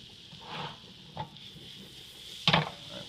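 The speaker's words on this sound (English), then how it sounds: "So we'll start with our shallot and our garlic. Nice hot pan, a little butter." Shallot and garlic in butter in a hot pan, a soft steady sizzle broken by a few close stirring scrapes and one sharper clatter of utensil on the pan.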